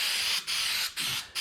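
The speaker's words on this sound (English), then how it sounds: "spray it on," Gasket remover sprayed from a can onto an aluminum Bass Tracker boat hull, three loud hissing bursts separated by brief pauses, close and alone.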